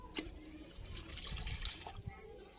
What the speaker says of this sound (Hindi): जब इस तरह पानी डालें